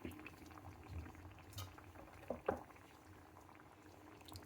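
Mutton and bottle gourd curry bubbling gently in a pot on low heat, a soft steady simmer with a few louder pops and spits near the middle, faint and close.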